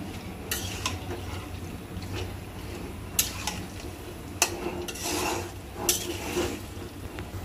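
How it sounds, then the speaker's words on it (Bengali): Spiced food being sautéed in a pan, a low steady sizzle with scattered scrapes and clinks of a spoon against the pan at irregular intervals, fairly close. "এখন আমি একটু আবার কষিয়ে নেব"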